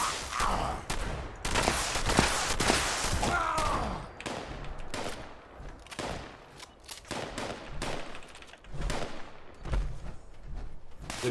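Gunfire in the post-apocalyptic game Fallout 76 crackles in repeated rapid bursts and single shots throughout, mid-distance and fairly loud, with short gaps between volleys.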